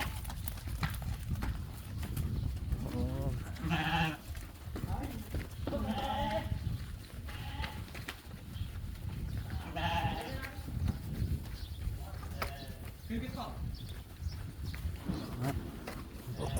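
Sheep bleat at a busy livestock sale, with several wavering calls rising over steady crowd noise while someone talks loudly throughout.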